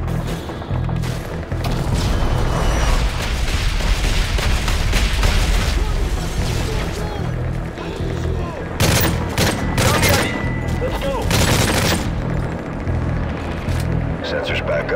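Artillery strikes called in during a Call of Duty: Modern Warfare 3 fire mission pound away in a loud, dense barrage of booms and crackling blasts, with bursts of gunfire and sharp crashes spread through the sequence.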